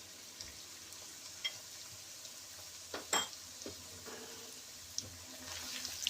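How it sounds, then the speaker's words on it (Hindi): Yogurt and minced meat frying in a pan over low flame, a faint steady sizzle with occasional soft clinks and scrapes of stirring, quiet and close, no talk. "अब हम फ्लेम लो कर देंगे और योगर्ट को 3 से 4 मिनट तक ऐसे भूनेंगे"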